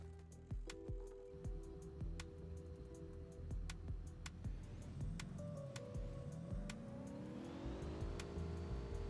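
A vehicle engine in the mobile battle-royale game Rules of Survival, revving and accelerating with rising and falling pitch, plus sharp gunshot-like clicks scattered over it, fairly close and constant.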